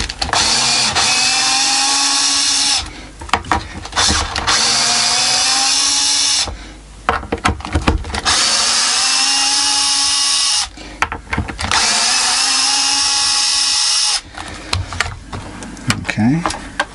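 A power drill backs the neck screws out of a Satellite Les Paul guitar, whining loudly up close in four long runs separated by brief pauses and clicks.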